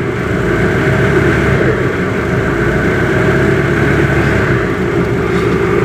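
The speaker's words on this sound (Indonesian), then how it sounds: "ini masih halus banget suara mesinnya ya" A 1994 Daihatsu Taft 4x4 engine idles steadily and smoothly throughout, a constant low rumble with no revving and no voices.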